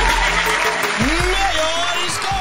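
Applause at a best actor award announcement, a dense wash of clapping that stays steady under a voice speaking over it.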